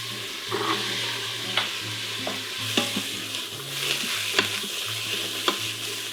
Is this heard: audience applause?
no